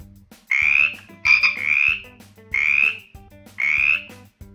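Felix the Frog croaks in five loud, rounded calls spaced about a second apart, each with a slightly rasping buzz, over faint low background tones and no talk.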